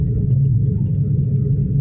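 Suzuki S-Presso car rolling downhill in third gear with engine braking and no accelerator, a steady low engine rumble and road drone heard from inside, continuous and fairly loud with no talk.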